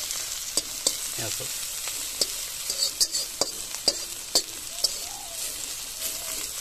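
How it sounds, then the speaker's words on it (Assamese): Bitter gourd frying in a wok, a steady close sizzle broken by repeated scraping and clinking of a stirring spatula at a loose, irregular rhythm, with no speech. "কেৰেলা ফ্ৰাই হৈ গ'ল কেৰাহীত লাগিবলৈ আৰম্ভণি কৰিছে"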